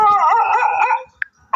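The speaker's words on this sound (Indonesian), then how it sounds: "Malah Ustadz malah menggonggong" A dog lets out a drawn-out howl that wavers in pitch, then falls silent and gives a short yip or bark, close and fairly loud.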